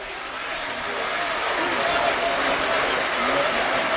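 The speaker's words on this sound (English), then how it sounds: "The applause from the Leicester fans to our left for the substitutes going out to warm up" Leicester City fans in the away end at Millwall applaud their substitutes heading out to warm up during an FA Cup tie, a steady wash of crowd clapping and noise beneath close radio commentary.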